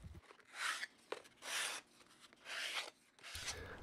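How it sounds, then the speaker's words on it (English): Plywood rectangles being sanded and rounded by hand with 80-grit, then 220-grit sandpaper: four distinct rhythmic rasping strokes, close and quiet, alone with no talk. "I'm sanding them and rounding them a bit with 80,"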